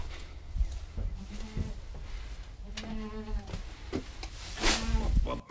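A goat on a small farm gives several short bleats and cries, close and fairly loud. The calls are spread through the clip over low rumbling background noise, and insect buzzing can be heard.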